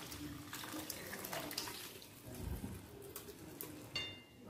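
Boiled water is poured into a chickpea curry on a gas stove at medium-high flame, a faint, continuous splashing and hissing pour heard close up without talk.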